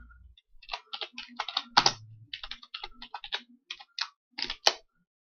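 Fingers typing on a computer keyboard, a close, irregular run of crisp key clicks in short bursts with brief pauses, no voices.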